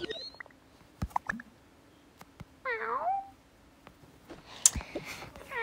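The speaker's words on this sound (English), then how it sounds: "Silly cat." A house cat meowing indoors, a few short chirping meows and one longer wavering call, fairly close, among scattered clicks and bumps in an otherwise quiet room.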